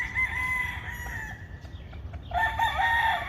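A rooster crows repeatedly on a farm, its harmonic calls ringing out clearly over a low steady background hum, with a second crow overlapping toward the end among other chickens.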